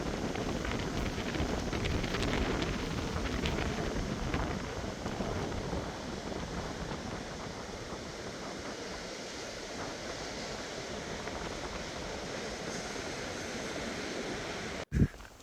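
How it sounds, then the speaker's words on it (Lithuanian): Ocean waves on the Portuguese coast, small breakers washing in as a steady broadband roar with wind buffeting the microphone, continuous throughout and ending in a brief sharp knock. "Gražios bangos,"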